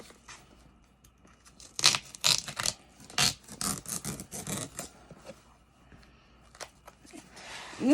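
A sharp handmade knife slices through the pages of an old book being taken apart for a junk journal, making a run of close, crisp rasping and tearing strokes with short pauses between them.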